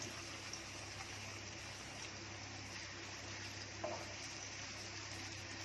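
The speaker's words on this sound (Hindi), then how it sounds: "अब इसको अच्छे से भूनूंगी सुनहरी रंगत आने तक प्याज की" Onion sizzles in hot oil in a frying pan, a steady, even crackling hiss with a faint clink partway through, heard close and without talk.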